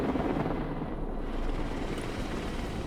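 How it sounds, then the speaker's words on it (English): Military helicopters in a video game give off a steady, rumbling rotor drone that holds evenly throughout, with no talk over it. "So 2 helicopters with infantry for the right side and supplies for the left."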